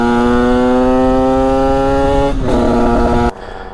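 A Sherco dirt bike engine, tuned slightly lean, revs hard and steady with a buzzing drone, dips briefly, then cuts to a lower idle near the end.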